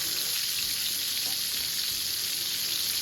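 Pangas fish frying in a pan, a steady close hiss of hot oil sizzling without pause and with no voices.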